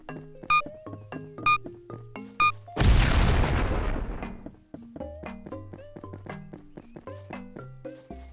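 An apple bomb dropped by a tree explodes in a video game with a single loud boom that decays over about two seconds, set among light, regular plucked game music notes; no speech.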